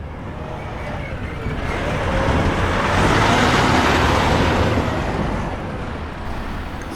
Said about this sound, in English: That was a really big truck.